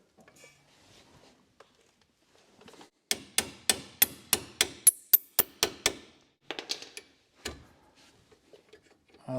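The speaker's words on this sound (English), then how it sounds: "And then I got my little tie rod tool here." Close, sharp metallic clicks come in a quick rhythmic run, like a ratchet, as a tie rod end tool works on a 1970 Jaguar E-type 4.2 Series 2 steering rack, then a few scattered clicks follow.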